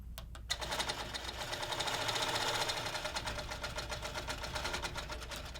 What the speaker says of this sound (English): So I can begin to stitch again, stopping and giving myself good stability.